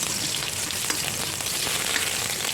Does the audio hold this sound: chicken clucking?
no